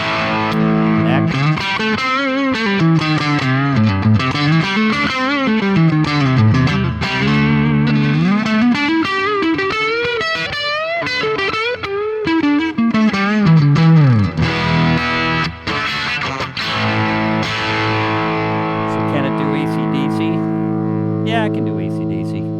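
Electric guitar played through a Marshall JCM reissue amp with the preamp gain turned up high, giving loud, saturated distorted chords and sustained riffs that ring steadily throughout.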